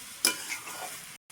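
Rice stirred as it fries with ginger in ghee, one short sharp scrape of the utensil followed by a brief soft sizzle, up close, then a sudden cut to silence.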